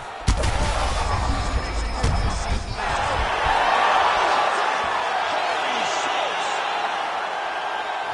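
Arena crowd roaring and cheering during a UFC 5 video game fight, a steady loud wall of crowd noise with a few heavy thuds early on.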